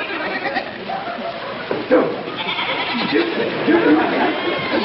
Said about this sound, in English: let my goats loose. They're running all over the place.